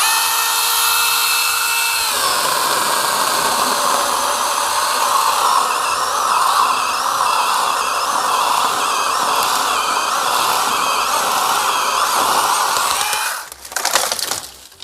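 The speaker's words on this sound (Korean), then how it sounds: "이게 8인치 톱이기 때문에 한 15에서 30cm 정도 굵기의 나무까지 자를 수가 있다고 합니다" A compact 8-inch cordless electric chainsaw bites into a thick pine trunk, its motor whining steadily and loud for over ten seconds before cutting off as the tree gives way with a crack.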